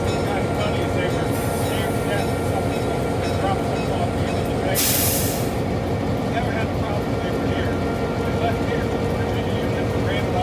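A Norfolk and Western GP9 diesel locomotive, built in 1958, rumbles steadily, its engine droning loud and close from the cab as the train gets under way, with a brief hiss of air midway.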